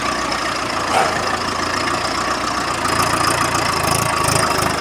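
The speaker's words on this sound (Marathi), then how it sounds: "आता ट्रॅक्टर बाहेर करणार ड्रायव्हर" A tractor loaded with cut sugarcane idles steadily out in the fields with a continuous mid-pitched engine rumble, which swells slightly toward the end as it prepares to drive out.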